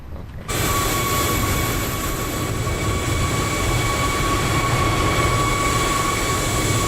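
A simulated airliner taxiing in a flight simulator: a steady loud engine roar with a high whining tone that starts abruptly and then holds constant, close and alone with no talking.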